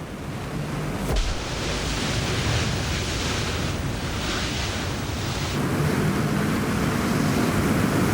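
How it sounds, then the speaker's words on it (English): Hurricane-force wind at Category 3 strength and beyond, a loud continuous roaring rush that buffets the microphone, rising sharply after a second and staying intense with surging gusts and no talking. "The wind speeds Beck is now experiencing could destroy a caravan."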